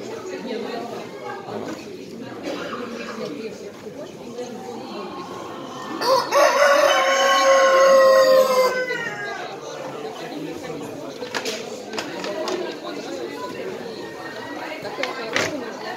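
In a Kuchinsky Jubilee and Orloff flock, a rooster lets out one loud, drawn-out crow near the middle while hens cluck and chatter around it, with people talking nearby through much of the stretch.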